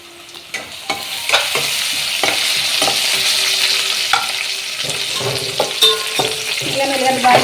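Sliced onions softening in a hot pan, a loud continuous sizzle broken by frequent spatula stirs and scrapes against the metal, close up, with no talking.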